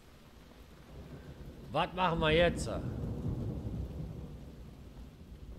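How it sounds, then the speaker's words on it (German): Rain and rolling thunder from the video game Wolfenstein: The New Order, a steady low rumble throughout with a brief swell in the middle, heard under someone speaking. "hier draußen regnet es"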